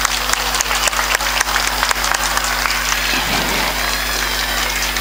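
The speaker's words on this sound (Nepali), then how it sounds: "तपाईहरु सबैले दुई हातले उठेर जोरदारले ताली बजाइदिनु म एकछिन अनुरोध गर्दछु" An audience at a school parents day claps in sustained, dense applause that holds steady throughout, loud and close, with no speech over it.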